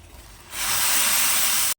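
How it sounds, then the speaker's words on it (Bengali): A steady, loud hiss of water boiling rapidly in a pot for tea, rising suddenly after a quieter start and holding even until it cuts off. "জলটা কিন্তু টকবক করে ফুটছে"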